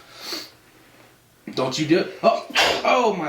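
One brief sneeze bursts out at the start during a casual podcast conversation. After a short pause, people talk and react.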